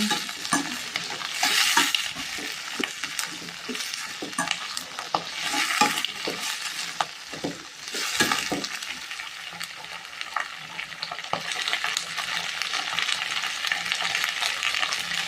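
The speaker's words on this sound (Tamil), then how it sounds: "எல்லாத்தையும் போட்டு நம்ம நல்லா வதக்கிக்கலாங்க." Mixed vegetables including bitter gourd, adamant creeper and three kinds of tubers sautéed in oil in a pan for sambar, with a steady close sizzle and repeated scraping stirs of a ladle throughout.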